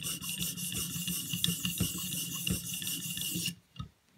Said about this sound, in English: I'm just doing this with a 600 stone